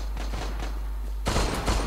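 Shots from a Luger P08 pistol in the online shooter Zula crack out near the end after a low steady hum and faint distant pops, two or three loud, close bursts.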